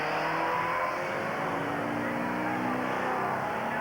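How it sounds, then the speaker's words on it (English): Motorcycles on a mountain stage of the Tour de France from Andorra to Saint-Lary-Soulan roar past in a sustained loud engine drone with a rising, steady whine, heard alone without talk. "as the motorcycles zoom through"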